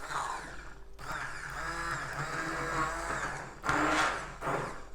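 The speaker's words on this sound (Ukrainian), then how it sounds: "тепер потрібно це все збити блендером" Blender pureeing broccoli cream soup in a pot, running steadily for a few seconds with a loud whirring buzz, briefly cutting out, then surging again with a harsher grind.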